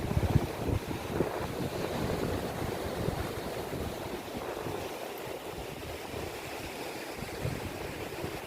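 Steady ocean surf rolls and washes continuously at the rocky shore of Caboangan, Burgos, Pangasinan, mixed with heavy wind buffeting the microphone, with no voices.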